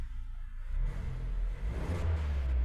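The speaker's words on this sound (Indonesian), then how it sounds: "sekarang kita coba dengerin suara dari mesin 2000 cc NA nya" A 2024 Mazda 3 hatchback's 2.0-litre naturally aspirated engine revs up steadily, a close, continuous rising hum and rumble with no talking over it.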